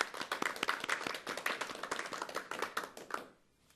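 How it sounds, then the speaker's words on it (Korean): Audience applause after interviews with trainers and jockeys ahead of a horse-racing grand prix, a dense burst of many hands clapping that fades out near the end. "여러분 박수 드려야 될 것 같습니다"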